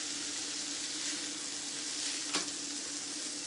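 Sliced courgettes sizzle as they brown in a pan, a steady close frying hiss with a brief sharp crackle partway through.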